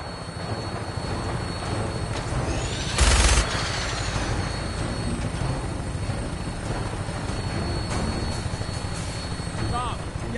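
A vertibird aircraft in Fallout 4 gives a steady rotor drone throughout, with gunfire and game effects cutting through briefly and voices talking over it.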